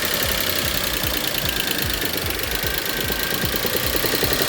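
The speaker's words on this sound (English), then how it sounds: "It's a rod knock." A car engine with a worn connecting rod bearing gives a steady, rapid metallic knocking that repeats through a constant running drone, loud and close, with no voices.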